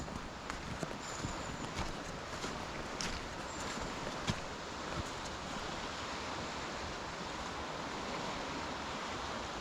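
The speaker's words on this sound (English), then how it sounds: "You can hear the water turning back on itself, just there, like you would get on a beach." Water on the River Wansbeck churns and swirls back on itself in a steady, broadband rush, faint and continuous like surf on a beach, with no voices over it.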